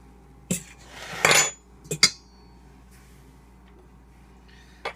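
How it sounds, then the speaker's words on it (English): An egg and cooking oil get mixed quickly into flour for pizza dough, heard as a few sharp utensil clinks against a bowl and a brief scraping burst before quiet, near and without talk. "Do a little quick mix."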